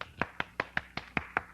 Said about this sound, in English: I think we all owe her a round of applause for her splendid work